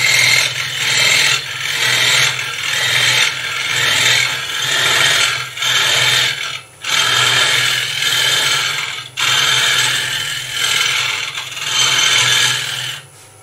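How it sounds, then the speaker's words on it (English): A wood lathe spins as a tool cuts the turning piece, giving a steady rasping, scraping hiss that comes in long passes with short breaks between them, loud and close, with no voices. "if I stop the lathe, we might adjust the camera"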